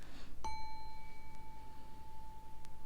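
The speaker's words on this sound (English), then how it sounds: "I'm going to ring a bell a couple of times" A small bell rung once during a grounding moment in a calm astrology reading, a clear ding that rings on with a long sustained tone fading slowly, soft and near, with no talk over it.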